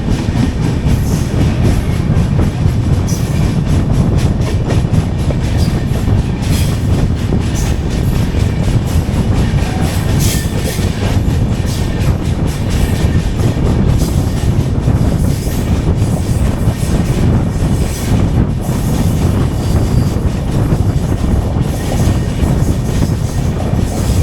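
The Kochuveli–Mumbai LTT Superfast Express runs loudly on the Konkan Railway line, heard from on board. A constant heavy rumble carries rhythmic clickety-clack from the wheels and occasional squeals throughout.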